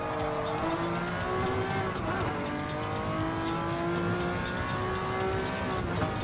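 A Group C race car is tested on a circuit, its engine revving loudly and climbing through gears with rising and falling pitch, close and continuous, with brief tire noise.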